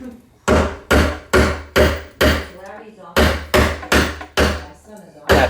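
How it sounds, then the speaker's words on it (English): A hammer strikes a rusted garbage disposal under a sink about ten times in a steady rhythm, each blow a loud, close metallic whack with a short ringing decay. "we're going to use the old hammer"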